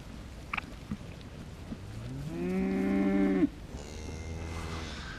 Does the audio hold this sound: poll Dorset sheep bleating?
yes